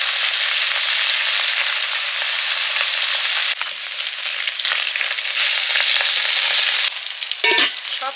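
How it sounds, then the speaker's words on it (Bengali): Fresh bata fish fry in hot oil in a pan with a loud, continuous sizzle and crackle, with brief shifts in texture as the pieces are moved or turned. "মাছগুলো ভেজে নিচ্ছি"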